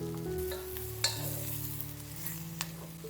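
In a wok, tofu, shiitake soaking water and preserved mustard greens bubble and sizzle softly, with a few light clinks of a spatula against the pan and no talking.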